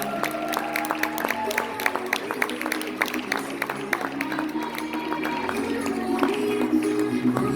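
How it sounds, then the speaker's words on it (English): An audience applauds at a fitness competition's master division lineup, scattered clapping and crowd noise with sharp individual claps and a few cheers rising over a steady background murmur. "Round of applause,"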